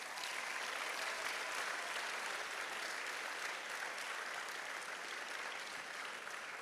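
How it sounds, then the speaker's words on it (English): Steady, dense audience applause fills a graduation ceremony hall, honoring a retiring staff member, sustained evenly and moderately distant with no talk over it. "Please, a round of applause"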